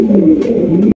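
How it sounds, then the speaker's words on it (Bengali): Big-sized King pigeons coo in a brief, loud, close-up throaty burble that cuts off abruptly. "এখানে কিন্তু আরো এক জোড়া কিং কবুতর দেখতে পাচ্ছি, একদম বিগ সাইজের কিং।"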